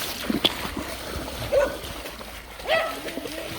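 Two dogs play in the water on a woodland outing, sending out a few short splashes and sloshes with a brief yip among them.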